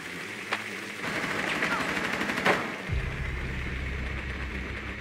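Gunfire in the Rainbow Six tactical shooter, rapid shots blending into a steady rattling barrage under in-game noise, with a sharper crack near the middle and a low rumble continuing afterward.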